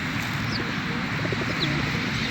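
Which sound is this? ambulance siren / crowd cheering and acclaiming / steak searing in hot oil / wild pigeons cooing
wild pigeons cooing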